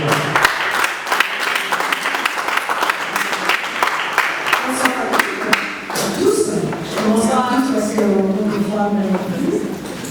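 A crowd applauds with steady clapping for several seconds, then a voice begins speaking as the clapping fades.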